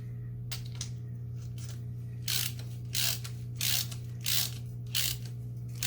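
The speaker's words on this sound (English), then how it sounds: "we're going to put our drain plug back in" Ratchet wrench cranking the oil drain plug back into a 1993 Suzuki DR 250 engine, a close run of fast clicking strokes that settles into about five regular louder pulls over a steady low hum.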